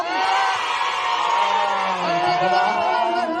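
Crowd at a Thai awards event cheering and whooping loudly and continuously, a dense wash of voices with shouts rising above it throughout.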